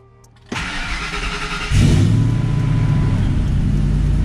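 A Ford Lightning pickup's engine cranks briefly, catches and then settles into a loud, steady idle close by, with no talking over it.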